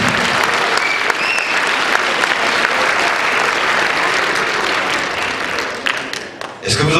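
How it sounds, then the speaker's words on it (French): A concert audience gives sustained, dense applause, close and loud, holding steady for several seconds and thinning out toward the end. "on l'assure et on l'applaudit encore très fort"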